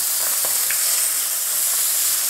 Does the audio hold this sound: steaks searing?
yes